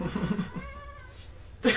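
A voice imitating a cat's meow, a short series of harmonic mewing calls with rising and falling pitch, close and fairly loud, ending in a brief burst of noise.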